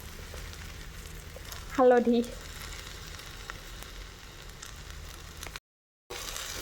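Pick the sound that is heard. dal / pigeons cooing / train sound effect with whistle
dal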